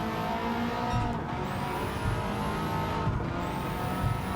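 A Subaru WRX STI racing on a wet track in Gran Turismo 7, with its engine droning loud and steady throughout and a rising whine that shifts pitch twice.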